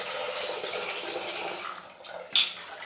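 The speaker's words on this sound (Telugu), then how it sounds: "సర్వలోకి తీసుకొని బియ్యం కడుగుదాము" Foxtail millet rice being washed in water in a vessel, with soft continuous swishing and sloshing close by and a brief sharper splash near the end; no talking.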